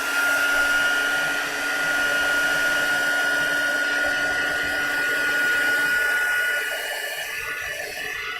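A heat tool or hair-dryer-style blower drying craft work at a desk, running steadily with a loud, even high-pitched whine and airy rush, close up and unbroken for the whole stretch.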